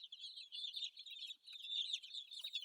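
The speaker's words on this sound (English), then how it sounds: "Chickens runs and fight to eat it." Chickens chirp and peep busily at close range while being fed egg yolk, a dense, continuous high chatter with no other sound under it.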